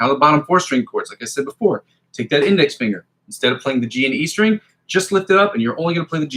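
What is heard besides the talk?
No everyday noises stand out.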